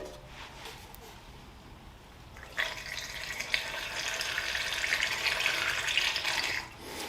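Fuel poured into the tank of a 2000 Kawasaki Katana 750 motorcycle, a faint steady rushing trickle that starts a few seconds in, holds for about four seconds and then stops.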